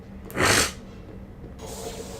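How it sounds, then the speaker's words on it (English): A single sharp, close sneeze bursts out once, followed by quiet breathing and a faint hiss. "I wasn't sneezing like this. This is new. These are new sneezes."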